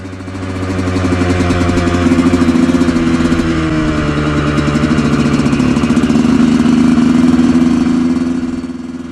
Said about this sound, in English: At lower RPMs, when you are off the pipe, the engine splutters and pops like this.